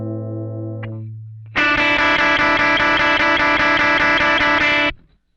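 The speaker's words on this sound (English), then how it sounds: "Little vintage distortion." A clean sustained guitar chord, then a heavily distorted guitar chord through a vintage-style distortion pedal rings out loud and buzzy for several seconds before cutting off abruptly.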